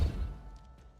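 In Hogwarts Legacy, a Depulso force-push spell strikes an object with one heavy low thump that decays quickly, followed by a couple of faint soft hisses.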